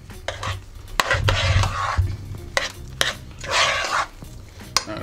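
Whipping cream is stirred into mashed potatoes with a spoon, giving repeated clinks and scrapes against the pot with soft wet squelching between strokes, close and alone.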